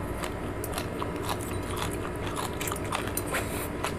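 Close, crisp crunching of fried water spinach with garlic being chewed, with repeated small crackles and bites over a steady background hum.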